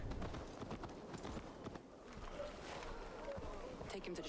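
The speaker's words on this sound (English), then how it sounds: "Let's call the horse here and see if it'll get there a lot faster." Horse galloping in Assassin's Creed Valhalla, a steady run of hoofbeats under game music and ambience, with a voice talking over it throughout.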